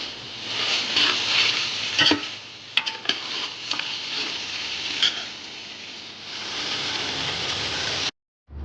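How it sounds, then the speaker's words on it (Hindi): Mutton karahi, a Lahori Pakistani dish, fries on high flame in a wok with a steady hissing sizzle, punctuated by scattered clinks and scrapes of a stirring utensil before cutting off abruptly. "दो से 3 मिनट तेज़ आंच पर भूनने के बाद तो इसे डिश आउट करेंगे।"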